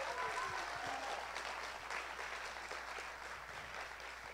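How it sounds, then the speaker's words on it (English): Sustained round of applause from a church congregation, steady dense clapping that fills the room and tapers only slightly toward the end, with no voices over it. "Would you give a round of applause to everybody who's already invested?"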